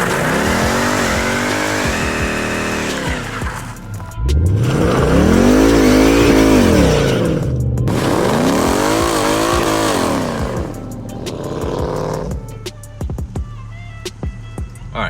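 A 2016 Ford Mustang GT roars through a line lock burnout, its engine revving loud and rising in repeated surges, then dropping to a crackling, popping idle near the end.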